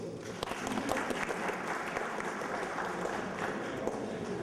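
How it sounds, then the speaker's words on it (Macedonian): A small audience at a promotional event claps steadily and fairly close, a dense, even patter of applause that runs throughout without letting up. "Аплауз за вас."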